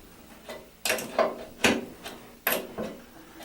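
An adjustable wrench loosens the rusty nuts on a toilet's bolts, giving a handful of sharp metallic clicks and scraping knocks at irregular intervals, close and fairly loud, with no talk.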